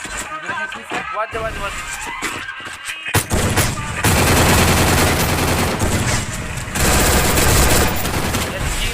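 Rapid bursts of gunfire from a 4v4 custom match of the mobile game Free Fire, loud and dense. Shots come in quick clusters over a steady din of game effects, and voice chat runs underneath.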